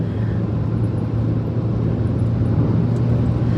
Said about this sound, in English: you can hear some road noise